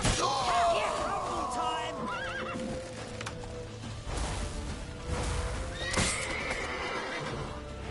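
Horse whinnies in The Witcher video game, a loud neigh near the start over busy battle noise, hoofbeats and shouting voices, with clattering impacts later on.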